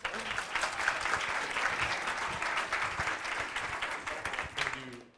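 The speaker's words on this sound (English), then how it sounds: "give them a round of applause" Audience applause at a 1 Million Cups business pitch event in Wichita, a crowd clapping steadily for about five seconds before stopping abruptly.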